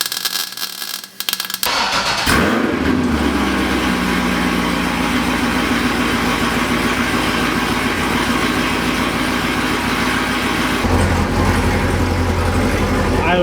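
A C6 Corvette with a new exhaust cranks and catches after a short quiet start, then settles into a loud, steady, close idle rumble. The idle shifts lower near the end.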